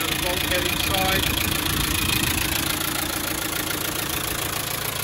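A Land Rover Defender 90 Wolf soft top with a 300TDi diesel engine idles steadily, a continuous near rumble with a light knocking texture and no pauses.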